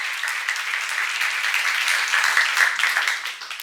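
A church congregation at a seminar on 1 Peter claps together in steady, sustained applause, a dense even patter of many hands that holds at a moderate level before easing off near the end.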